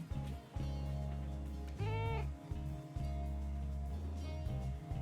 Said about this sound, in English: My cat's meowing at me because I'm talking to nobody and she thinks I'm talking to her.